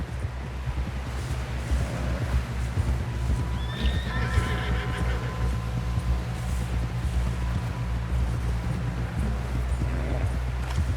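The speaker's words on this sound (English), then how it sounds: "Someone help John down off this horse." A horse whinnies loudly midway over steady hoofbeats and a continuous low rumbling background, with no talking, in the video game Red Dead Redemption 2.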